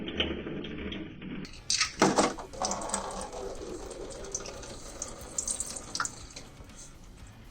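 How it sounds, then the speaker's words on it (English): Engine oil draining from the sump of a Toyota GT86 into a pan, a faint, steady trickle with occasional splashy bursts, heard fairly close with no talking. "So that's draining off now. You can hear that trickling away in the background."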